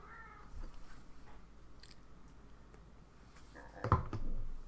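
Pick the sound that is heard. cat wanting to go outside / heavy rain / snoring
cat wanting to go outside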